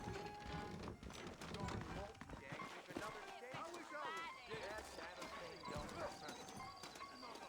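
Horses trotting in the video game Red Dead Redemption, a steady clip-clop of hooves with an occasional whinny, heard close and fairly quiet beneath game music and characters talking.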